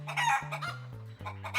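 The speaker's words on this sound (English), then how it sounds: "Chickens say cluck, cluck." A cartoon chicken clucks in a rhythmic run of four or five bright, pitched clucks, close and loud with short gaps between them and no talk.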